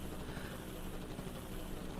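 Helicopter from the game Super Danganronpa Another: a steady, dense rotor and engine drone that stays even and fairly quiet for the whole stretch, with no talking.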